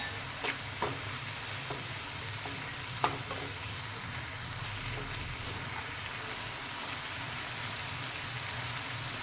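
Moth beans (matki) sautéing in a pan with turmeric, chili and salt, a faint, steady sizzle with a few soft stirring clicks and no talking.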